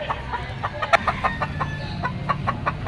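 A Sweater-line bull stag gamefowl rooster at a poultry market in Malabon gives a rapid series of sharp, close clucks and short squawks in an uneven rhythm over low background murmur.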